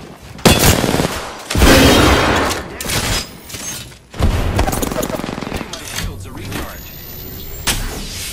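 Grenade blast and gunfire in Apex Legends, a heavy boom followed by bursts of rapid shots and loud impacts, with game voices speaking between the firing.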